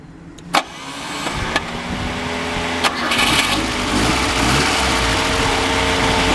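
A 1978 Fiat 124 Sport Spider engine cranks over with a few sharp clicks, catches, and settles into a steady, rumbling idle close by.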